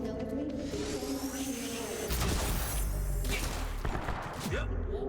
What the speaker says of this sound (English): Was that a burst heavy fire pistol?